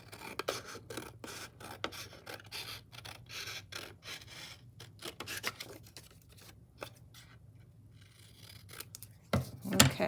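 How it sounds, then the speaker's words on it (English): Scissors cutting paper for a 3-D paper ornament, a series of close, soft snips and rustling slides in uneven bursts, fairly quiet and without talk, ending with a louder crinkle of handled paper. "So try to do all your cutting really smoothly."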